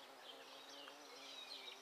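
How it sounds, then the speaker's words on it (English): A yellow jacket wasp buzzes nearby in an outdoor garden setting, a faint, steady drone that wavers as the insect flies around, rising slightly in loudness toward the end. "Dang, that's a yellow jacket."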